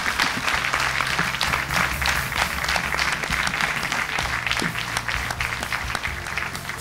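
A studio audience at a televised talent show gala claps loudly and steadily, dense applause running throughout at close range with a faint crowd murmur.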